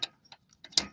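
A stubby 18 mm wrench being turned and flipped on a power steering line fitting of a 2007 Monte Carlo, giving a few short metallic clicks and ratchet-like taps, close and fairly quiet, ending in a louder clack.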